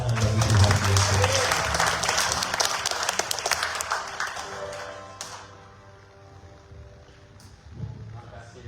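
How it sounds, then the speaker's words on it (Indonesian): Church congregation applauding for Jesus, loud mixed clapping at the outset that thins out and fades after about five seconds, leaving a quieter room with faint voices. "Kita beri tepuk tangan bagi Tuhan Yesus."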